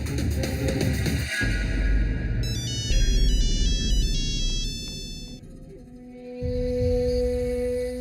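A phone ringtone for an incoming call plays a bright, repeating electronic melody, loud and close, with a brief pause before the tune resumes; no one speaks.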